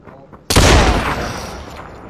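Gunfire in the VR shooter Population: One, a sudden loud blast after a brief quiet lead-in, then a long rumbling decay, with faint voices beforehand.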